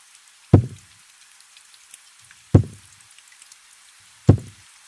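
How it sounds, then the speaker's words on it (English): Three sharp knocks spaced about two seconds apart, each a dull thud with a quick decay, against a quiet background. "she woke to the sound of knocking"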